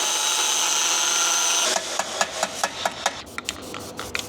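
A grinder cuts out a welded nut on a Kia K3 GT during a methanol kit and intercooler install, first as a steady high whine, then as a string of short, sharp bursts that start and stop repeatedly.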